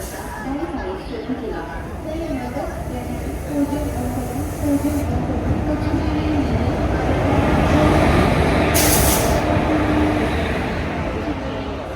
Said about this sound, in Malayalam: ട്രെയിൻ ഇതാ ഒന്നാമത്തെ പ്ലാറ്റ്ഫോമിലേക്ക് എത്തിച്ചേരുന്നു